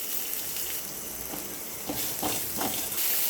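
Cumin seeds, cumin powder, curry leaves and chopped green chillies frying in a pan for jeera rice, a close, steady hissing sizzle with a few louder bursts of crackle and stirring near the end.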